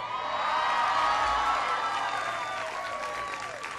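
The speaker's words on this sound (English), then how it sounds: "Everybody give them a big round of applause." A large crowd applauds and cheers for teachers during a Teacher Appreciation Week gathering with officials present, a dense, steady clapping with scattered whoops that fades slightly toward the end.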